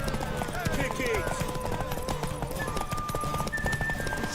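Horse hooves clip-clopping in Witcher 3 video game, a steady near rhythm mixed with whinnies, game music and voices talking over it.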